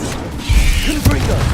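An Incendio fire spell is cast in the video game Hogwarts Legacy, with a loud, close magical burst and a second sharp flare a moment later, short and mechanical-sounding.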